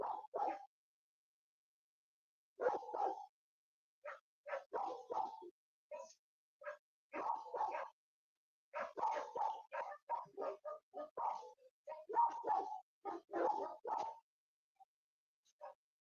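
A dog barking in repeated bursts of sharp barks and yips separated by short silences, fairly close and clear, continuing for about fifteen seconds.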